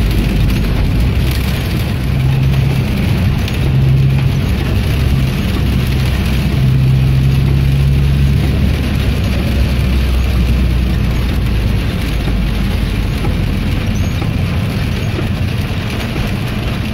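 Rain falling on a car stuck in traffic on EDSA, a steady broadband hiss of drops on the body over a low engine rumble, continuous and fairly loud with no talk.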